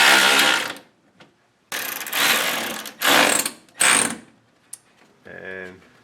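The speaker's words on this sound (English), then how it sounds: "Now putting the bolts back in." A ratchet tightens bolts on a Derale dual electric radiator fan shroud. It sounds as loud, close bursts of rapid clicking separated by short pauses, ending with a faint buzzing rattle.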